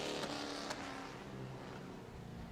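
A Pro Truck race truck engine drones as it rolls out onto the track at Auburndale Speedway, a steady moderately distant rumble with a slight rise and fall.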